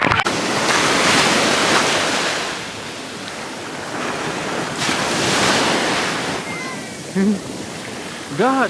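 Ocean surf rolls and crashes steadily on the beach at Assateague Island, a broad, loud wash of breaking waves with gusting wind noise, while voices call out and shout briefly near the end.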